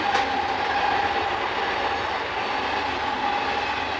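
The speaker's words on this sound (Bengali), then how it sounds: "ট্রেন যাচ্ছে ট্রেন" A train rolls past close by with a continuous rumbling roar and a faint steady metallic whine, the wheels clattering throughout.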